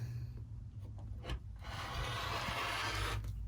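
Rotary cutter trimming a quilt-as-you-go hexagon log cabin fabric block on a cutting mat, a close, steady scraping rasp that builds and holds for a couple of seconds after a brief earlier stroke.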